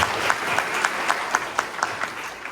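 Applause from a university lecture audience for a professor introduced before a Go and AI talk, a dense, moderately loud patter with a few sharper individual claps standing out.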